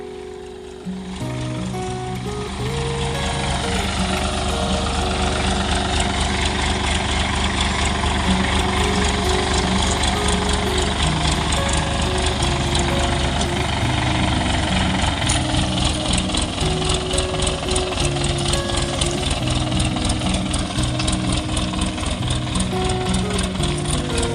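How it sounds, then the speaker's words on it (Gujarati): A GPS-guided automatic 4x4 tractor's diesel engine runs close and loud, holding a steady throbbing drone with a rattling vibration throughout. "આ ટ્રેક્ટર જે છે એ મિત્રો ફોર બાય ફોર છે"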